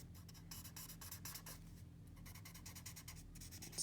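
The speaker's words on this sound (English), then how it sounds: "bringing the pencil over the top seems to be the best sort of technique for that" A pencil scratches over a shabby chic painted texture in quick, close, rhythmic strokes, soft and dry, with brief pauses between bursts and no talk.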